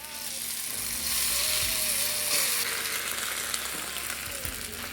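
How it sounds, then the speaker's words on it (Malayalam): Fried tempering poured over arbi curry hisses and crackles in a loud, steady sizzle that swells after the first second, with a faint whistle-like tone running underneath. "കറി വറുത്തത് റെഡി ആയി കഴിഞ്ഞാൽ നമുക്ക് അതിൻ്റെ മേലിലോട്ട് ഒഴിച്ച് കൊടുക്കാം"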